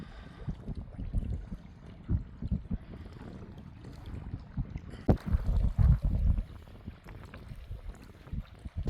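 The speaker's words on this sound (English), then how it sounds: "It was very windy, very loud." Gusty night wind buffets and rumbles in uneven bursts against a tent beside a mountain tarn, with flapping fabric and a stronger roaring gust midway, heard close against a quieter background.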